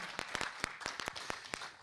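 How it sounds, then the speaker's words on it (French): Scattered claps from a small audience applauding participants and speakers at a regional innovation meeting, a dozen or so distinct, fairly quiet hand claps spread unevenly over under two seconds. "Je pense qu'on peut applaudir les participants, les intervenants."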